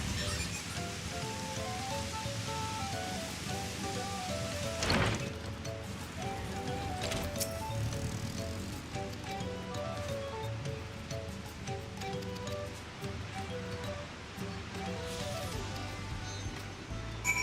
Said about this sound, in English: I feel like they increased the frequency with which rain occurs in this game